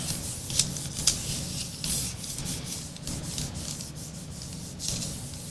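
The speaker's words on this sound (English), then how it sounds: "And I'm just rubbing with my fingers." Fingertips rubbing inked paper against a printing plate, a soft continuous scuffing friction with a couple of light taps, close and steady, no talk.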